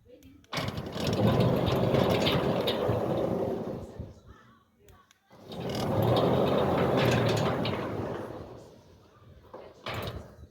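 A Centurion D5 Smart sliding gate motor in Johannesburg runs after an angle bracket catching on its pinion gear was cut off. It gives two steady mechanical whirring runs of about four seconds each, separated by a short pause with clunks.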